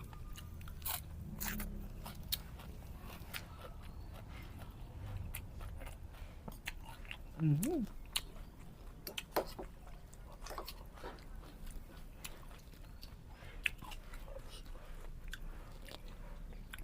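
Crunchy snacks dipped in spicy seafood sauce, chewed close up with repeated crisp bites and crackles scattered through a quiet room, a brief voice murmuring midway.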